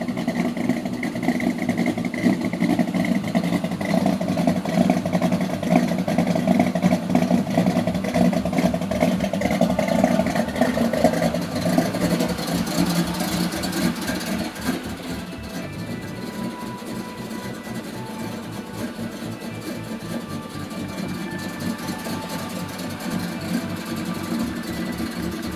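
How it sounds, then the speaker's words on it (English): An engine fitted with an upgraded camshaft idles with a choppy, lumpy rhythm, a steady pulsing rumble close by that softens and settles lower partway through, with no talk over it. "It's idling a little bit low."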